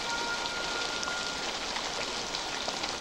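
Rain falls steadily in a scene from the film Cast Away, a soft continuous hiss of drops on surfaces at moderate volume with no speech over it.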